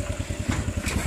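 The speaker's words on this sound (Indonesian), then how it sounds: "motor yang kita baru ambil tadi ni. Honda EX5 High Power." A Honda EX5 High Power motorcycle engine idles steadily nearby with an even low putter and no talking.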